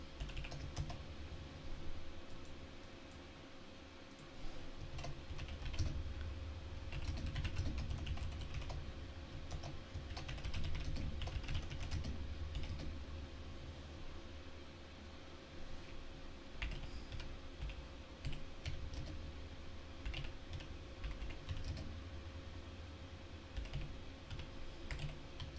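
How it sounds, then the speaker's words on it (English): Fingers tap on a computer keyboard in irregular bursts of soft clicks, fairly quiet and close, with a low steady hum underneath. "I just typed the same number twice in accident."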